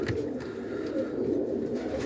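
A pigeon coos softly and steadily nearby in a loft during breeding season, a low continuous murmur with no talking.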